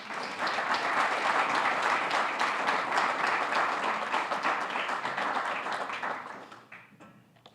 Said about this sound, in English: Please give a round of applause for Rahil Thanawala.